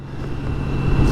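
A BMW K1600 GTL motorcycle cruising along a road gives a steady low engine rumble mixed with wind noise, swelling slightly louder toward the end.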